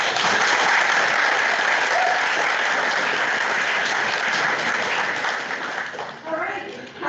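An audience at an opening plenary session applauds with dense, sustained clapping that fills the room, then thins and fades toward the end.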